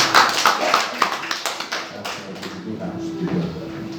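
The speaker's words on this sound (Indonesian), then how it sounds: "Boleh tepuk tangan dulu buat Tuhan." A church congregation at a Sunday service applauds, scattered claps spreading through the room, then fading as a voice speaks over the dying applause.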